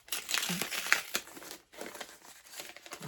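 Paper crinkles and rustles close by in quick, uneven bursts as a cat plays with it, with brief pauses between the crumpling sounds.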